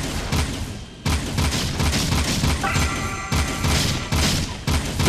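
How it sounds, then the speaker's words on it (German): A weapon fires in Jak 2 in rapid, loud bursts of shots, with brief pauses between volleys and a ringing tone in the middle. "Ich schieße eigentlich gerade nur los."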